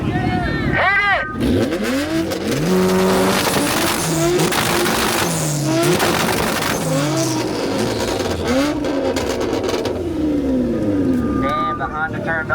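A Honda car engine revs hard, loud and sustained, with another car roaring and tyres squealing around it while voices carry over the noise.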